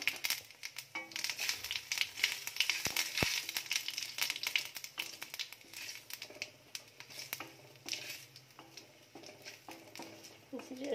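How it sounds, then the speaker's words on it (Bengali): Whole cumin seeds drop into hot oil for a fish curry with potatoes and ridge gourd, crackling and spitting in a busy, fairly close patter that carries on for several seconds. "এবার এই তেলের ভিতরে আমি গোটা জিরে ফোড়ন দিয়ে দেবো।"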